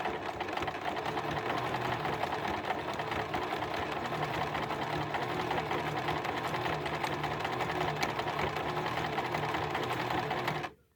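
A White model 1888 sewing machine runs steadily at close range, its even rapid whirring and clatter continuing almost unbroken while sewing an overlock-type stitch, then stopping abruptly at the end.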